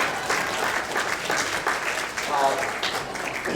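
Audience at a university town hall meeting applauds in a sustained wash of clapping, a fairly large crowd, with some voices and cheers mixed in.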